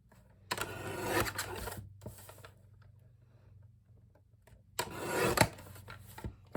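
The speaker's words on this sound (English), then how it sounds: "And then I just trim it out with my trimmer." A paper trimmer slices cardstock for a Graphic 45 desk folio in two broadband rasping strokes, each about a second long, separated by a quieter stretch with a low steady hum underneath.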